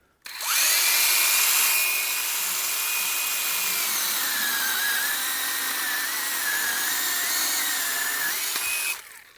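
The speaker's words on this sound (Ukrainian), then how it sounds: "Ідентична товщина, включаємо дві пилки." A high-pitched motorized whine of two cordless mini chainsaws, a Procraft PKA16 and a Dnipro-M CS-12, cutting steadily through wood of identical thickness, loud and continuous for several seconds before stopping abruptly.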